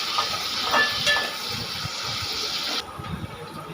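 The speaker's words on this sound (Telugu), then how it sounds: "కలర్ వచ్చేదాకా వేయించాలి." Sliced okra sizzles steadily in a hot pan while it fries until browned, a dense hiss that continues without talk and eases slightly near the end.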